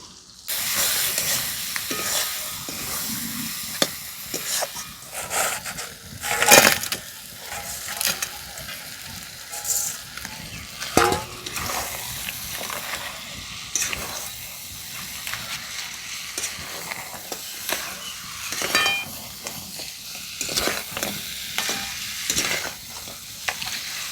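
Spice masala sautés in oil in a pan for a Sundarban crab curry, a continuous close sizzle and hiss with repeated scraping stirs and occasional louder crackling bursts.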